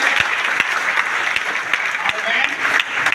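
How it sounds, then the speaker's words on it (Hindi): Audience at a gathering gives a hearty welcoming round of applause, loud close-up clapping with distinct individual hand claps punctuating the dense crowd sound over a few seconds. "नए पुराने सभी के लिए एक जोरदार तालियों से स्वागत कीजिए।"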